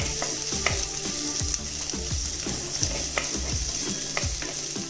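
Sliced onion, green chilli and ginger sautéing in a pan for a Kerala-style chicken stew: a close, steady sizzle broken by repeated scraping strokes of a stirring spoon, with no talking.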